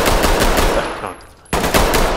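Rapid automatic gunfire from the Ready or Not tactical shooter game bursts loudly, briefly drops to near quiet, then resumes in sharp continuous volleys, with no talk.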